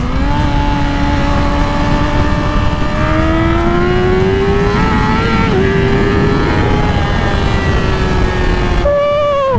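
Yamaha R6 600cc sport motorcycle accelerating hard, a loud, continuous high-pitched engine wail climbing steadily in pitch through the gears, up close with no talking.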